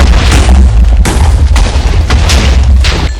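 TNT blowing up in Minecraft during hardcore play, deep in a tunnel: loud, heavy booming blasts, several overlapping detonations in quick succession, close and alone.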